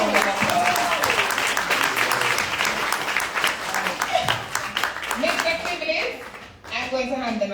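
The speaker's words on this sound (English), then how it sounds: "Please give Mr. Simpson a round of applause." A keynote audience at a concert media launch at Devon House applauds Mr. Simpson, with sustained loud clapping from a crowd and voices talking over it, then an amplified speaker's voice near the end.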